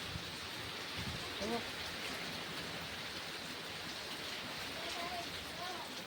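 Heavy rain with wind in a village, a steady broadband hiss of downpour filling the whole stretch, with faint voices and chatter mixed underneath.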